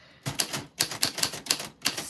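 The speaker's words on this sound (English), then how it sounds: "That is what your name sounds like on a typewriter from 1949." Keys of a 1949 typewriter strike in quick, crisp clacks, about eight sharp mechanical hits in an uneven typing rhythm, close and fairly quiet, with no talking.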